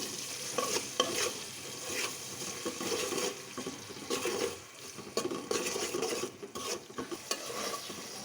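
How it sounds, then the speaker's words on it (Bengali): Ginger-garlic paste for biryani fries in a pan and is stirred, with a close, steady sizzle broken by repeated scraping strokes of the spoon and occasional short clatters, and no talking. "এখন এটাকে আবার একটু ভাজা করতে হবে।"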